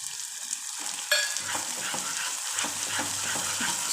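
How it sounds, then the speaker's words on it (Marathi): Spices fry in oil for matar paneer, with a soft sizzle and intermittent scraping stirs close by after a quieter start, no voices. "आता हे आपण तेल सुटेपर्यंत मसाला भाजून घ्यायचा"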